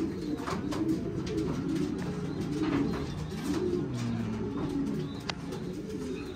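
Pigeons cooing in a racing pigeon loft: overlapping low, rolling coos from several birds, with faint chirps and rustling, close and continuous, with no talking.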